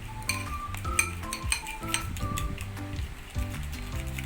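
A utensil stirs and scrapes through leche flan mixture in a metal bowl or pan, giving close, irregular clinks and scrapes in a steady stirring rhythm with no talking.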